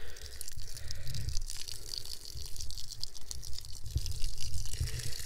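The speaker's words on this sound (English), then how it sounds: "And I'm going to water this bed." A garden bed being watered outdoors, with a steady hiss of spray or running water lasting throughout at moderate level, alone without talk.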